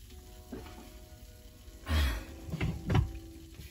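Food frying in a home kitchen pan, a quiet steady sizzle with a couple of louder clattering bursts of handling partway through.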